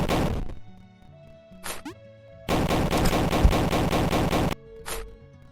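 Explosions from falling bombs in the platform game Level Devil: a short burst at the start, a brief pop, then a long loud two-second rumble of repeated blasts and one final short blast.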